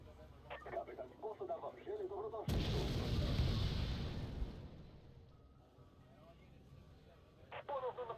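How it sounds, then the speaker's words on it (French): A cannon fires in a strategy video game: one loud booming blast with a long rumbling decay, framed by radio-like chatter and beeps before and after. "le canon n'est pas très précis comme vous pouvez le voir"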